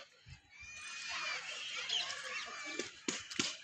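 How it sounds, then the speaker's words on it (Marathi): A dense chorus of high, thin peeping from ducklings fills the clip, with a few soft quacks and rustles near the end. "बघा बदक आहे ते छान"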